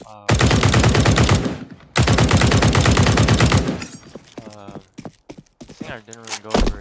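SMG spray fire in Counter-Strike 2 comes as two long, loud, rapid automatic bursts close by, then a lighter scatter of shots and game clatter, with a voice talking over the end.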